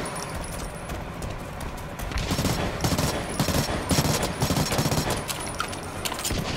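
Rapid automatic gunfire from a weapon in the shooter BlackLight Retribution, dense bursts of overlapping shots rattling continuously and growing louder midway, with no talking.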